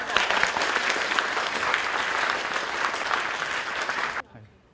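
An indoor audience applauds for a professor at a health talk, dense sustained clapping from a full room lasting about four seconds before cutting off abruptly into near silence.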